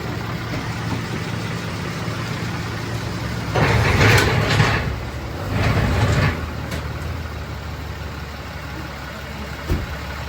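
A truck fitted with a Western snow plow drives slowly forward, its engine rising briefly in two short surges over a steady idling rumble, close by with no talk.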